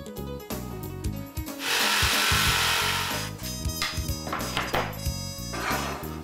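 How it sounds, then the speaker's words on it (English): Tongue and groove wooden floorboards are laid, producing close, busy scraping, rubbing and knocking of wood with a sustained harsh tool-like stretch, steady and loud with no talk. "Continue to lay the boards"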